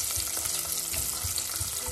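Spices toasting in a pan while being stirred for a grill marinade: a steady dry crackle and sizzle with soft scraping pulses from the stirring, close and continuous, no voices.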